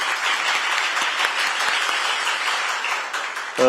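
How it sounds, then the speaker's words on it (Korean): Sustained applause from an audience at a Korean policy forum on mega projects and regionally led growth, steady and dense throughout before a voice begins at the very end. "뜨거운 박수 한번 부탁드리겠습니다."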